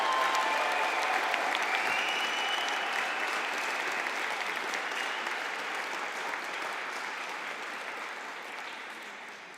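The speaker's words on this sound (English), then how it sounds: "can we have a collective round of applause for the Certificate in Human Resource Management class" An audience at a university conferring ceremony applauds the graduating Certificate in Human Resource Management class, a sustained hall-wide clapping that stays dense and even and slowly fades over about ten seconds.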